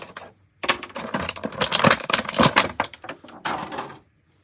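A blade cutting open the plastic packaging of a McFarlane DC Multiverse Grifter action figure, heard close up as a dense run of crackling snaps and plastic clicks lasting a few seconds.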